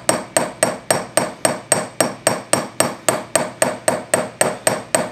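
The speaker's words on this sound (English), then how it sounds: "you're just going to use your ball peen hammer to do a hammer texture." A ball peen hammer striking metal to give it a hammered texture, in quick, even succession, about fifteen sharp ringing taps close up at a steady rhythm, with no talking.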